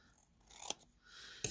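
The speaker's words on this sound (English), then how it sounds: "So I'll just cut this." Scissors snipping paper for a vintage sewing junk journal, two quick close cuts about a second apart, crisp and fairly quiet with no talk.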